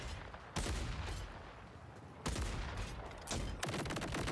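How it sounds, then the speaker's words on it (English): Sticky shotgun firing in Borderlands 4, three heavy blasts spaced roughly a second or more apart, each a sharp loud crack with a short rumbling tail over steady game background noise. "What about this sticky shotgun?"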